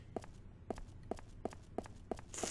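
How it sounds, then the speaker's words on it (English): Six evenly spaced footsteps in a horror video game, sharp and moderately close, each a crisp thud-and-scuff over a low ambient hum, with a brighter hiss swelling at the end. "I hear extra footsteps"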